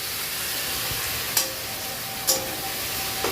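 Cabbage frying in hot oil, a steady close sizzle with two brief bright scrapes of a spatula against the pan partway through.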